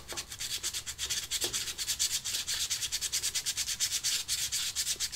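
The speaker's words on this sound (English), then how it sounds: "We can take that over to the belt sander, or just use a little coarse grit, like 100 grit," A turned wooden biscuit cutter is sanded with 100 grit sandpaper, giving close, rhythmic scratchy strokes in a quick, steady back-and-forth pattern.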